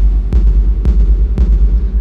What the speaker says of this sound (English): I used the Roland Cloud TR-808.